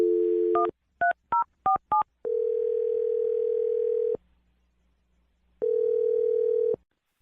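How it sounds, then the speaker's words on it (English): A telephone gives a short steady tone, then a quick series of dialing beeps, followed by a long steady ringback tone, a pause and a second ring. The tones are loud, clean and electronic. "I'm going to dial her right now."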